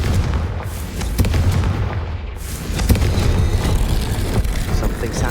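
A Confringo fire spell in Hogwarts Legacy lets off booming blasts, set amid dense game noise with loud repeated bursts near the start and again around the middle.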